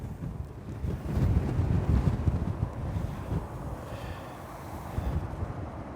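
Gale-force wind buffeting the microphone on the bank of the River Trent, loud gusty rumbling that swells and eases in surges, close and unbroken, with no talk over it.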